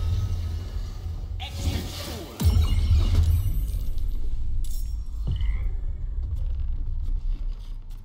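A wild-shaped frog in Baldur's Gate 3 croaks amid a dense game soundscape of whooshes and clinks, with a loud low rumble swelling partway through.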